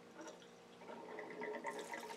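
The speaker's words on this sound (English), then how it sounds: "So let me open up the cold here." Water drains and gurgles from a Takagi T-H3M-DV-N tankless water heater after the cold valve is opened for descaling, a soft rushing, trickling flow building slightly toward the end, with no talking.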